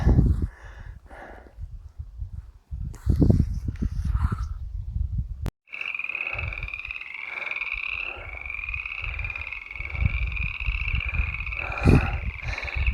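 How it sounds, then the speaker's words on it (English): Frogs croak in a steady chorus outdoors near pools of water in New Mexico, a continuous rhythmic trilling that grows fuller after a brief pause, with some rustling movement nearby. "Frogs."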